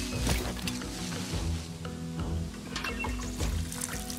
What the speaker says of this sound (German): Oh, hier müssen wir gießen, sehe ich gerade.